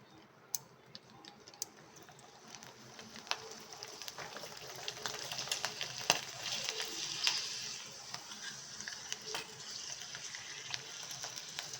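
Rice papads frying in hot oil give a soft, steady sizzle with scattered sharp crackles and pops throughout, close and fairly quiet, with no talking.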